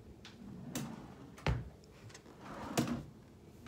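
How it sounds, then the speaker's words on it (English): Drawers in a hotel room are slid open and shut while clothes are put away, giving a few distinct wooden knocks and scrapes at close range with soft rustling in between and no speech. "And then I put my clothes in my drawers."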